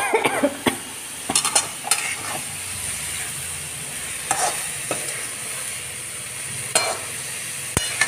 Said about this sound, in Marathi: आता हे सगळं तेलामध्ये छान परतू द्यायचं आणि आलू गोबी मटर सगळं याच्यामध्ये घालून घ्यायचं।